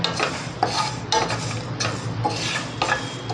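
A spoon scrapes and stirs fenugreek leaf curry in a pan, a series of close, uneven strokes against the metal, with faint sizzling beneath them.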